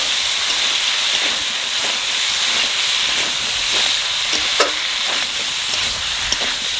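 Water poured into a pan of potatoes for a thin katla fish curry, giving a steady broadband hiss and sizzle with faint stirring clicks, close and continuous without voices.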